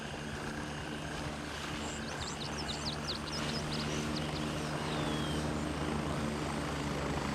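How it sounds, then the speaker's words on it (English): Several helicopters flying in the military shooter game Gray Zone Warfare, a steady low rotor and engine drone held throughout, fairly distant and continuous, with faint bird chirps over it. "I do hear a bunch of helicopters."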